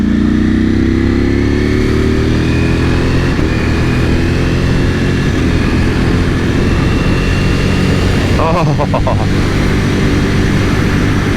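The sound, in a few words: 2021 Ducati Panigale V4S motorcycle engine while riding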